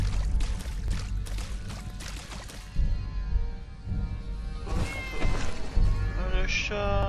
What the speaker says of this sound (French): Ah, c'est un chat!